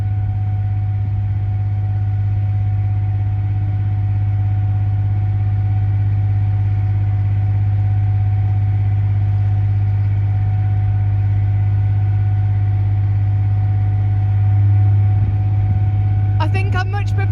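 A narrowboat's engine runs steadily at high revs, about 2,000 rpm, while cruising upriver against the current, with a constant loud low drone throughout and a brief clatter near the end.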